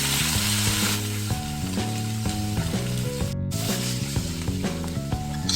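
A fish fries in hot oil with a constant bright crackling sizzle, heard under stepping melodic music that plays all the way through.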